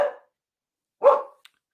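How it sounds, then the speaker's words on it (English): A dog barks twice indoors, two short sharp barks about a second apart, fairly close and loud, with silence around them. "That's my emergency dog that tells me someone's here."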